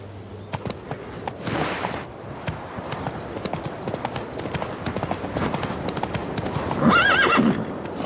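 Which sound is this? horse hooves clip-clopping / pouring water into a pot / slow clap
horse hooves clip-clopping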